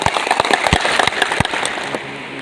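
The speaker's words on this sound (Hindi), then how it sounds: "तालियां जोर से बजनी चाहिए।" Home guard personnel at an outdoor ceremony clap loudly and densely, a burst of applause with sharp, irregular hand strikes before it thins out near the end.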